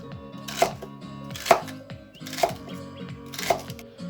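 Knife chopping zucchini and celery into chunks on a cutting board, four distinct firm chops spaced roughly a second apart, close and clear with no talk.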